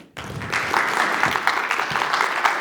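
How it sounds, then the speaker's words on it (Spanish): Audience members at a forum applaud a quantum algorithms researcher as she is welcomed, a sudden burst of many hands clapping that starts sharply and continues evenly. "Recibamos con un fuerte aplauso a Javiera Canales"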